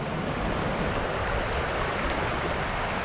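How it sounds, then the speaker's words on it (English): Water rushes down a brook with small waterfalls in a moorland valley of the northern Yorkshire Dales in winter, the stream running high, giving a steady broadband roar with no pauses and no voices. "It's a very enjoyable walk along this brook. Nice little waterfalls."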